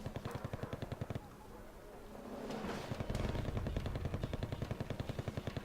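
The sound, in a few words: machine gun fire in video game Wargame Red Dragon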